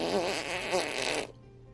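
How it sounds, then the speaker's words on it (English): A loud, close fart noise sound effect with a wet, buzzy rasp lasts just over a second and then cuts off abruptly into quiet. "Fart noises."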